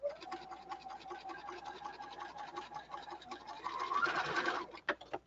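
A sewing machine runs steadily, stitching a short one-inch line on a costume piece where a hook and bar will go, with a faint scratchy texture, then stops with a couple of brief clicks at the end.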